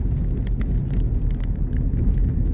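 Car driving in the right-hand lane on a road trip to Phnom Penh, heard as a steady low road rumble from inside the vehicle, with light ticks and clicks scattered over it.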